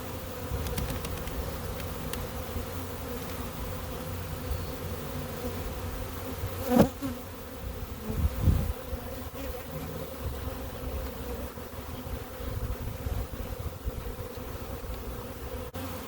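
A honey bee swarm buzzes continuously, a dense steady drone of many insects close by, with a couple of brief knocks partway through.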